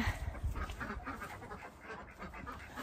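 Several ducks quacking in a rough, overlapping chorus nearby, fairly faint, with no speech.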